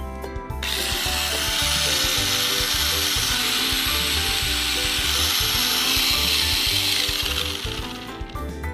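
A Tamiya Mini 4WD motor spins with its gear cover and battery holder fitted, a steady close whirring buzz of small gears that holds evenly for several seconds before easing off, with no talk.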